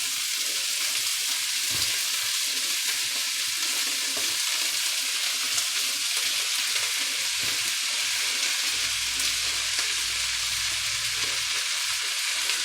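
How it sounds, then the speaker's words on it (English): Ground beef mince broken up and frying in a pan gives a loud, steady sizzle throughout, with scattered scrapes and knocks of a utensil working through the meat and no one speaking. "Alright, so we'll break all our mince up."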